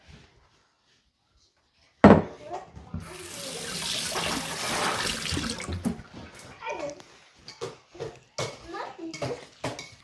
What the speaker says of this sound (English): I'm gonna dump the rest of that and I'm gonna wash my hand real quick.